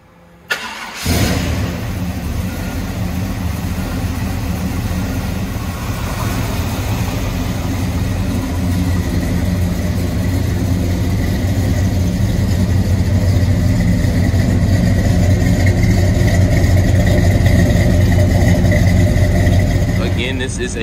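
A 1971 Chevrolet Chevelle SS starts up and settles into a loud, steady, rumbling idle through dual chrome-tipped exhausts, heard close for about twenty seconds after a brief quiet start.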